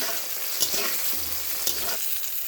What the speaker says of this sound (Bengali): আলু বেগুন পেঁয়াজ দিয়ে ভেজে নিচ্ছি